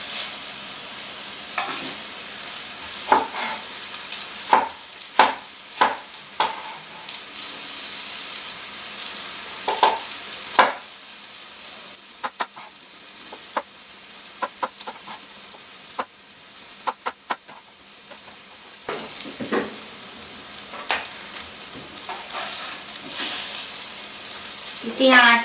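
Turkey meatballs sizzle steadily in a frying pan over a large burner, a soft continuous hiss broken by sharp clinks and scrapes of stirring and turning, with occasional brief talk.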